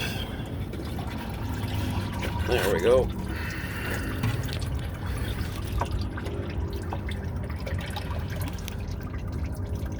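Used motor oil trickles from an oil filter into a drain pan during an oil change on a 2017 Ford F150, a faint liquid drip and pour under workshop noise, with someone speaking briefly.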